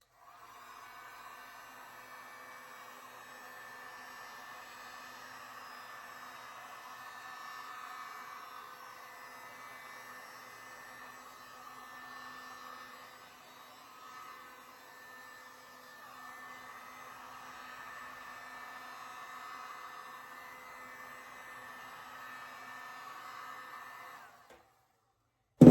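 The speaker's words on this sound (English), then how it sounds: "now I take my heat gun and I'm going to warm up the resin so that I can spread it around" A heat gun blowing to warm resin before spreading, a continuous even whooshing hum held for about twenty-five seconds, then cut off abruptly.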